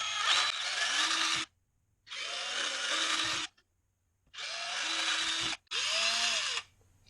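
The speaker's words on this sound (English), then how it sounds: "I'm going to go ahead and drill a couple holes for screws to go through." Four loud bursts of a power drill boring screw holes into wood during a garage door opener install, each whirring for about a second with short silent pauses between, motor pitch dipping under load.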